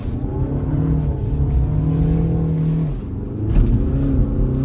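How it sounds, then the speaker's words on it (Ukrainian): A Volkswagen Passat B8 with the 2.0 TDI diesel accelerates hard and close. Its steady droning engine note climbs, drops briefly at a gear change, then rises again. "зараз я дам газу і він"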